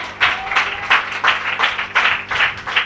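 A church congregation at an annual gathering claps in rhythmic bursts, about eight regular, moderately loud beats in a steady pattern, with faint voices underneath.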